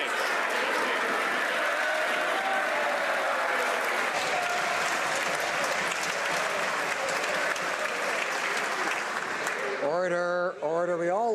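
Loud, sustained applause from members filling the House of Commons chamber during Question Period, a dense continuous clapping that fades near the end as a voice begins speaking.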